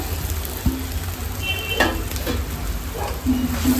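Grated potato goes into a hot pan and sizzles loudly up close, with clattering spoon knocks and scraping stirs over the frying.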